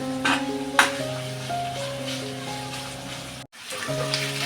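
Chopped onion, green chilies, ginger and curry leaves sauté in a pan for a Marathi spiced okra-in-yogurt dish, a soft continuous sizzle with a few stirring knocks, set against steady background music with a brief dropout near the end.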